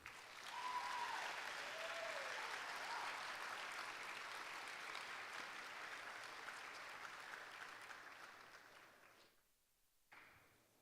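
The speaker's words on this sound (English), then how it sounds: "Let's give these seniors a round of applause." A school audience applauds seniors at an awards convocation, sustained dense clapping that holds steady for about nine seconds, then drops away abruptly to near silence before a brief return.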